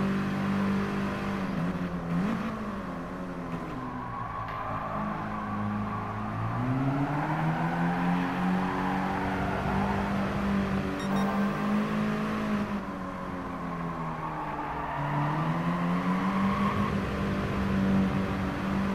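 Race car engines in Gran Turismo Sport drone steadily throughout, a sustained revving whine that rises and falls as the cars accelerate and shift, with no talk over it.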